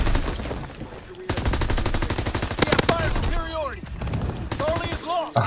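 Rapid automatic gunfire bursts and explosions in the World War II shooter game Call of Duty WW2, loud and dense over game effects, with a player's voice talking intermittently.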